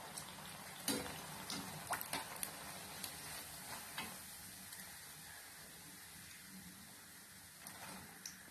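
Raw banana bajji deep-frying in hot oil for tea-shop style snacks, a steady dense sizzle with sharp crackling pops and a few clicks scattered through, close and moderately loud, no talking.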